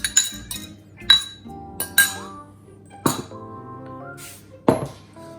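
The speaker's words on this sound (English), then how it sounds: "So with our wooden spoon, mix that through." A wooden spoon stirs scone dough in a bowl, knocking against the sides in a series of sharp, ringing clinks and taps spaced about a second apart, close and clear with no talk.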